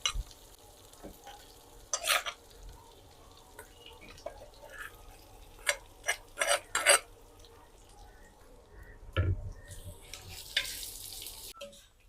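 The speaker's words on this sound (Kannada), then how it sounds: "ಚೆನ್ನಾಗಿ ಸೇರಿಸಿ ಒಳ್ಳೆ ರೀತಿಯಲ್ಲಿ ಫ್ರೈ ಮಾಡುವಂಥದ್ದು" Salted raw jackfruit pieces fry in a pan under a quiet, low sizzle, with scattered sharp scrapes and clatters of stirring, several clustered in bursts.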